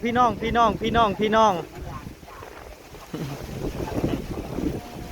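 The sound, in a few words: wind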